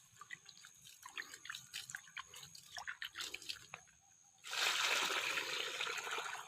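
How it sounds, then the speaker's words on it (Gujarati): A bucket of water is poured onto freshly planted rose and mango saplings; soft scattered drips come first, then a loud, steady gush of water splashing onto soil for about two seconds. "મસ્ત પાણી પીવડાવી દીધું છે બંને છોડને"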